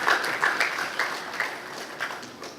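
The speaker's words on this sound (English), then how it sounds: "round of applause for everybody" A gathering at a school pesticide-awareness event claps for the participating schools. The applause is brief and fairly soft, with scattered, uneven claps that fade slightly toward the end, and no speech over it.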